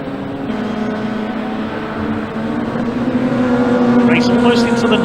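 Pre-1993 touring cars, including a BMW E30 M3 and a Vectra, race at twilight around Donington Park with a sustained, rising engine roar that swells toward a close pass near the end.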